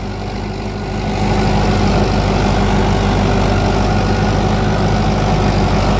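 A Mahindra XP Plus tractor engine pulls a nine-tine cultivator through a field at about 1600 rpm, giving a loud, steady low drone that swells after the first second and runs on without any talk.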